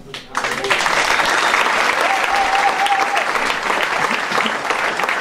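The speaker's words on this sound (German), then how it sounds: "Noch eine Frage stellen, schon hast du Applaus." Sustained audience applause at a Kölsch cabaret show in a small theatre, dense and steady after a sharp onset, with a faint voice briefly audible beneath.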